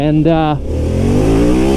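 A 2021 Harley-Davidson Pan America adventure motorcycle engine, 150 horsepower and revving to 9,500 RPM, revs hard and climbs in pitch, loud and close, with a brief spoken word at the start.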